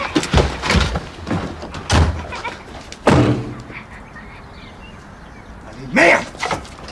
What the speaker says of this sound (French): Va fermer la porte